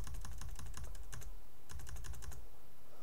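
Computer keyboard arrow keys are tapped in two quick bursts of clicks, a rapid run of taps, a short pause, then another run, close and crisp with no speech.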